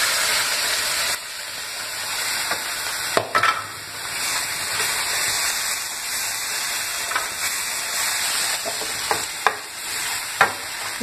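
Wet masala gravy hits a pan of stuffed parval (pointed gourd) frying in oil, giving a steady loud sizzle and hiss with a few sharp stirring clicks and scrapes scattered throughout.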